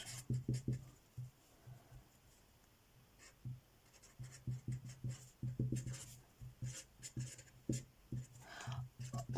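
Chalk or marker writing on a board during a preschool education history lecture, a run of close, quick tapping and scratching strokes in uneven bursts with short pauses between words.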